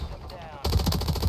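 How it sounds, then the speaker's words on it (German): A rapid burst of automatic gunfire from the Warzone Resurgence video game erupts suddenly after a brief quiet lead-in and continues loud and dense. "Das war mit meinem letzten Schuss noch."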